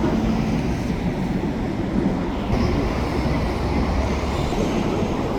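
Freight train rolls past near rail yards, a continuous loud rumble of wagons and wheels close by, steady throughout with no voices.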